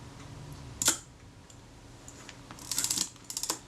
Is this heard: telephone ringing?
no